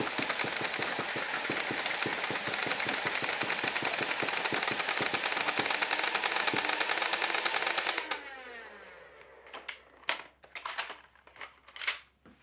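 A Dart Zone Destructor foam dart blaster fires a rapid, steady mechanical burst of mixed darts for about eight seconds, whirring down as the motor slows, then a few separate clacks.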